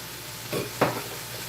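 Mushrooms fry in oil in a very large frying pan, with two short bursts of stirring and sizzling close by, the second sharper, over a quiet steady background.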